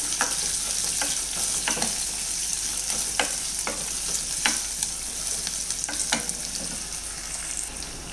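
Chopped onion, half a large onion, stirred and sautéed in a pan, giving a steady bright sizzle with repeated scraping strokes of the spoon throughout, close and continuous with no voices.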